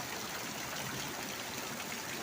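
Floodwater rushing over a drain in a village after heavy rain, a steady, loud broadband roar that fills the whole clip without a break and with no voices.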